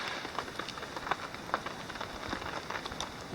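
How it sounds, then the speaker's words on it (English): Steady rain patters on a surface, a soft dense crackle of drops with scattered louder hits, quiet and continuous. "And it's raining."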